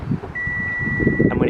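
A steady electronic confirmation beep from a Mazda MX-5 1.8i Roadster's folding roof holds one long tone, sounding close and clear while someone talks under and around it.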